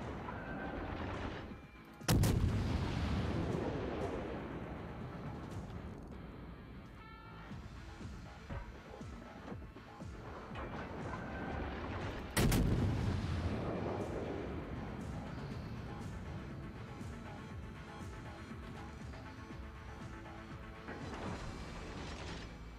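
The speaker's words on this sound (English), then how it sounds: "it's scary getting shot by battleships like that" Battleship gunfire in World of Warships: two heavy, booming shell impacts or salvos land about ten seconds apart, each a loud crack followed by a long rumbling decay amid mechanical game noise.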